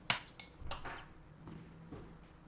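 A spoon stirs oat flour in a black cup for a cacao cake batter, making a few faint clinks and scrapes against the cup: a sharp tap at first, then softer strokes.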